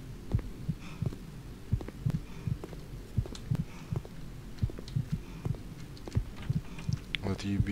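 Regular throbbing heartbeat of the statues in the horror game Statues, low double thumps repeating steadily at moderate volume over a dull hum, with a voice briefly audible near the end.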